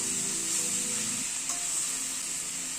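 Tomato cooking down in a pan gives a steady bright sizzle, with soft scraping of stirring early on and one brief clink midway; no voices.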